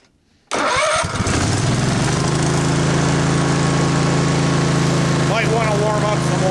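Old tractor engine cranks and catches after a short quiet moment, then idles loudly and steadily nearby in an even rumbling chug, with a voice briefly heard over it.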